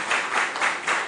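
An audience at a junior school quiz competition claps for a team from Akwadum Methodist, a short burst of steady, fairly loud applause rising and falling in a few soft waves with no talking.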